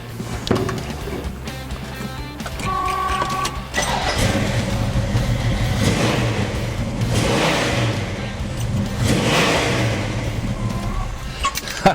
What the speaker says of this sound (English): turned the key, and it fired right up